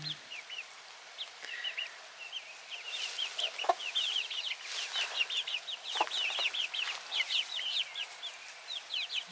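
Chickens and roosters cluck and chirp in a barn with a steady stream of short, high calls overlapping at moderate volume, no talking.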